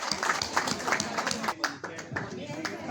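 A crowd claps to welcome guests at a student honour ceremony in Nainital, Uttarakhand, rhythmic hand claps heard under someone speaking.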